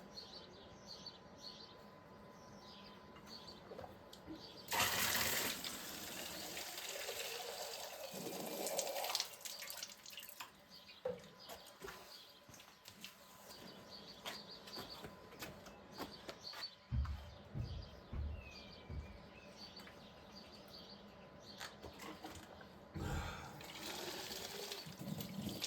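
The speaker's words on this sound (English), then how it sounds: "And this is the second water source." Water runs at a trail water source on a warm day along the HexaTrek in the French countryside, a faint steady trickle with occasional splashes, birds chirping around it and some brief handling noises.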